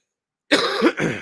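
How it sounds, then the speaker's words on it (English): After a moment of silence, a person coughs twice in quick succession, close and fairly loud, with a rough, throaty quality. "and then I'll stop coughing."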